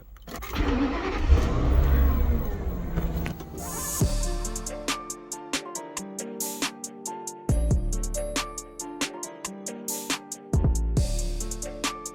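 A campervan engine turns over and catches, then settles into a steady running hum with repeated sharp clicks or knocks as it pulls away; no one speaks.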